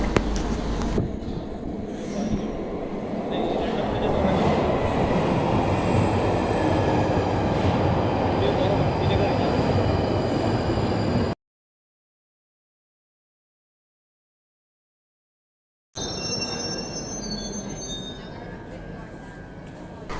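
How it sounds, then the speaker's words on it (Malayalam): A London Underground tube train pulls into a station, its loud broadband rumble and wheel noise steady for about eleven seconds, then continuing after a short silent break, with faint metallic squeal above. "അപ്പോൾ നമുക്ക് പോകാനുള്ള ട്രെയിൻ വരുന്നുണ്ട്."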